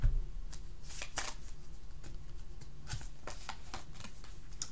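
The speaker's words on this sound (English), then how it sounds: "Let's go ahead and get another deck for you" A deck of tarot cards being shuffled, a quick run of soft crisp riffling flicks and slaps repeating irregularly at close range, quiet and alone with no talk.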